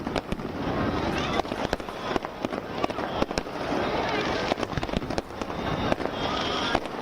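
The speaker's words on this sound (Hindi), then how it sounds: "स्वर्ण मंदिर को खूबसूरती के साथ सजाया गया और साथ ही आतिशबाजी भी की गई" Fireworks crackle and pop in dense rapid bursts over the Golden Temple (Harmandir Sahib) during the Prakash Utsav celebration, with sharp close bangs over a steady roar of crowd and ambient noise.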